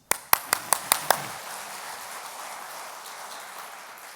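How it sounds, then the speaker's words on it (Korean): Church congregation at a Sunday service giving a short burst of about six sharp, reverberant claps in quick succession, then a fading echo and quiet room tone. "박수 한번 치죠."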